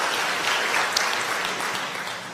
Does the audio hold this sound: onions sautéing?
no